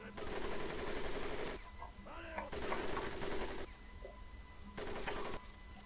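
Rapid bursts of gunfire from the World War II shooter Medal of Honor Pacific Assault, loud blocks of sustained automatic fire broken by short gaps, with a voice talking between the volleys.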